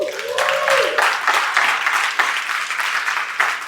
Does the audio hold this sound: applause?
yes